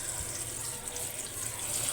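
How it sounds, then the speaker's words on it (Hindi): Cold tap water runs steadily in a continuous hiss over boiled macaroni being rinsed in a home kitchen. "यहाँ मैक्रोनी उबल गई है, इसको मैं वॉश करूँगी एक बार ठंडे पानी से"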